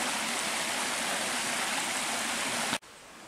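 A river stream flowing along a karst hiking trail in the Harz in autumn, giving a loud, steady broadband rush of water close by that cuts off abruptly near the end, with no voices.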